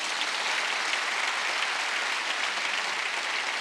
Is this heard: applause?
yes